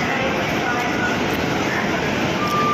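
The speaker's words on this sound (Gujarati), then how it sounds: "અમદાવાદથી જમ્મુ તવી આપણી ટ્રેન આવી ગઈ છે" A steady, loud rumbling roar of the Ahmedabad to Jammu Tawi train arriving at a station, continuous broadband noise with no breaks, like a train rolling close by.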